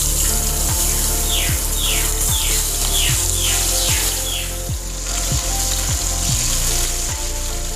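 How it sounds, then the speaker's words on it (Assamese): Singhi fish rubbed with salt and turmeric half-fry in hot oil in a kadai, giving a loud, continuous sizzle, with a regular ticking rhythm running through it and no talk. "এতিয়া মই মাছকেইটা হাফ ফ্ৰাই কৰি ল'ম।"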